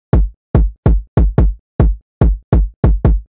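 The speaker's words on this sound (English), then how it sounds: "I wanted to get a really punchy kick like this one." Punchy electronic kick drum laid out in a reggaeton rhythm, nine deep booming hits with fast decays in a syncopated pattern, loud and dry with nothing else playing.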